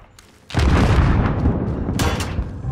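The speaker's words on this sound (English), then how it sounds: "Enemy precision airstrike." Precision airstrike in the video game Warzone: a loud, sustained roar of explosions and booms starts abruptly after a brief quiet moment and rolls on continuously, with a sharper blast burst near the end.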